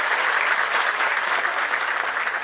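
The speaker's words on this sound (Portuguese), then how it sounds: "o seu vice-governador Carlos Brandão, pedir uma salva de palmas a ele." A crowd applauding a vice-governor at a political event, dense continuous clapping at an even level throughout.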